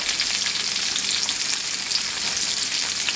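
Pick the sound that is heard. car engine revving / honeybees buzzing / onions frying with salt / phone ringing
onions frying with salt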